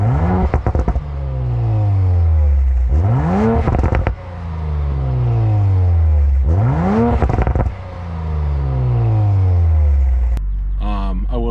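A 2019 Audi RS5 Sportback engine and exhaust revving close up in three repeated rising-and-falling sweeps, each climbing sharply then easing back down, loud and alone without talk.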